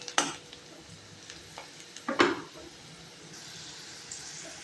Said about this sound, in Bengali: যতক্ষণ না পেঁয়াজটা ব্রাউন হচ্ছে ততক্ষণ পর্যন্ত কিন্তু এটাকে ভাজতে হবে অল্প আঁচে